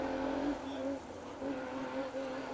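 A rally car runs an asphalt stage at Rally Ceredigion, its engine note rising and falling through gear changes at a distance, faint and steady under commentary.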